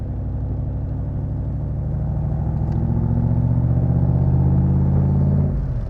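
A Crendon Cobra replica car with a big tuned Ford engine driving, giving a deep, steady, loud rumble that swells a little before dropping away near the end, with no talking.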